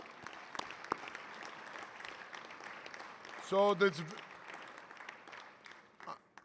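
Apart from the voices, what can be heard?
audience applause at a plenary session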